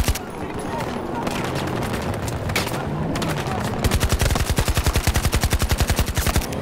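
Automatic gunfire in Battlefield 2042, a dense rapid rattle of shots throughout that tightens into a loud, evenly spaced burst near the end, with voices talking over it.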